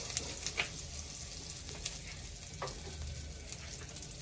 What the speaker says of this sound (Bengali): ফার্স্টেই দেবো আমি সামান্য হিং ফোড়ন